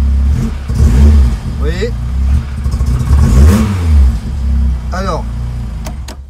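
A Renault Clio 16S with a faulty coolant temperature sensor revs up in two or three loud, rising surges, close by under someone talking in French.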